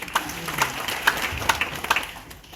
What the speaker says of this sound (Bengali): জোরে একটা হাততালি চাই।